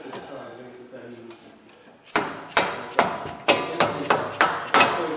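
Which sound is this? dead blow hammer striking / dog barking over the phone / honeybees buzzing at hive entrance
dead blow hammer striking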